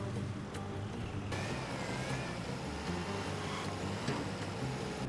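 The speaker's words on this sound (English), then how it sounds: "Let's put the tractor to the test and see if it can handle clay." A tractor engine in Farming Simulator 25 runs at a quarry while digging clay, giving a steady, fairly loud mechanical drone that holds without a break for the whole stretch.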